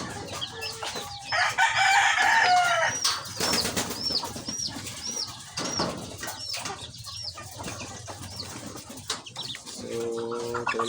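Chickens at a layer farm cluck busily while a rooster crows loudly nearby, several crows and scattered calls overlapping in a noisy coop with no talking.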